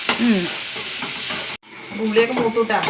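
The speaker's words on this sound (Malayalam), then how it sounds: "ഒക്കെ കൂടി അങ്ങനെ തട്ടുക നന്നായി വഴണ്ട് വരണം" Garlic and other ingredients being stirred and sautéed in a hot pan, a loud close sizzle with scraping strokes, a brief break midway, then more stirring and frying.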